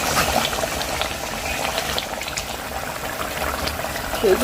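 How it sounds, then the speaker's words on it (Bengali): Fish curry simmers in a pot, giving a steady, close bubbling and gurgling of liquid that holds evenly for several seconds and swells slightly near the end. "মাছের ঝোল হয়ে গেল তো ওই যে মাছের ঝোল রেডি"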